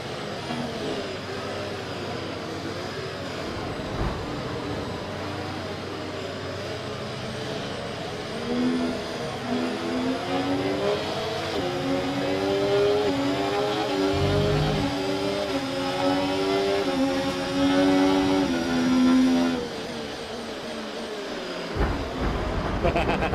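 A Formula 1 car engine in the racing game F1 24, with its internal combustion engine showing wear, drones and climbs steadily in pitch through the gears for about twenty seconds, loud and close, then drops away abruptly.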